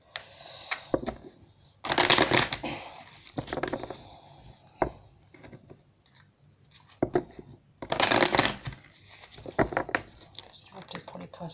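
Oracle cards riffle and shuffle in repeated bursts of papery flapping and patter, close to the microphone, alternating with a voice talking in the pauses.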